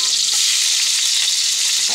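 Onion sautéing with garlic in a pan, a dense, continuous sizzle of frying, loud and close with no talking.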